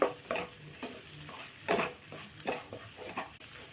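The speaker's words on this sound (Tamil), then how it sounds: "இந்த மசாலாவோடு சேர்ந்து இந்த சோயாவும் நல்லா வேகட்டும்." Soya chunks fry in masala in a pan while a spoon stirs them, giving soft, steady sizzling broken by a few scraping, clinking strokes, quiet and close.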